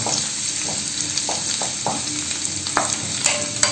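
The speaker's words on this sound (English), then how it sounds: "Here the sizzle." Thin shreds of ginger fry in hot oil with a steady, loud sizzle, broken by scattered utensil scrapes and taps as they are stirred in the pan.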